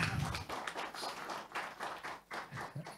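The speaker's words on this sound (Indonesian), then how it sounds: "Dan tepuk tangan boleh lah ya." Scattered clapping at an Indonesian sports awards press conference, a loose patter of hand claps with a few louder bursts, fairly close and continuing for a few seconds.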